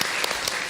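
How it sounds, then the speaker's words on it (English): Audience of nurses at a conference plenary session applauding, a brief burst of dense, steady clapping from a hall full of people, fairly loud and heard alone. "So I would really like you to give yourself an applause."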